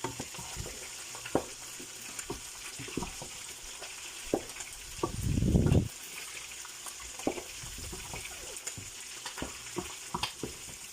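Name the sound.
stirring fish with powdered ginger in pan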